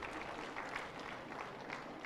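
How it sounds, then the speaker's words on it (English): Faint, distant applause from an audience at a national award ceremony for World Elephant Day, a soft patter of clapping that runs briefly and evenly, low in the mix. "A big round of applause,"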